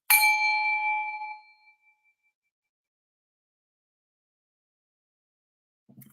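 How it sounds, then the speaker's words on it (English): A meditation chime strikes once with a bright metallic ping that rings and fades over about two seconds, followed by near silence and a faint low sound at the very end. "And when you hear the chime, slowly release."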